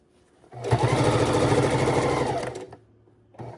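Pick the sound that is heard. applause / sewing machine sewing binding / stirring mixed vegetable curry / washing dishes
sewing machine sewing binding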